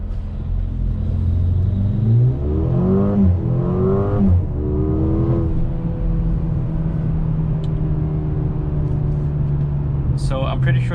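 A 2021 Mercedes-Benz GLA 35 in Sport Plus mode with traction control off, its engine rising in a few strong revs against the brakes for a brake-boost launch, close and loud, then settling into a steady hum.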